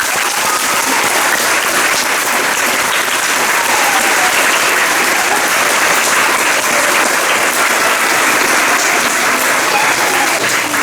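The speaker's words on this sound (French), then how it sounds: "On peut tous vous applaudir très fort." Loud, sustained applause from a large audience at a school graduation ceremony, steady clapping filling the space without a break for about eleven seconds.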